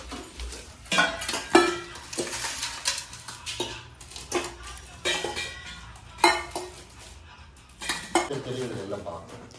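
A steel bowl set and a pongal pot are handled up close, giving irregular metallic clanks, clinks and scrapes in bursts, some sharp and some softer, with brief pauses between.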